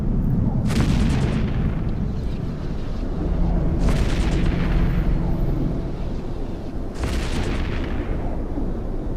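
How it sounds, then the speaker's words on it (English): Three large booming ship explosions in the space game EVE Echoes, each a loud burst spaced a few seconds apart over a continuous deep rumbling battle backdrop. "there goes the Neros. That was a beautiful explosion as well."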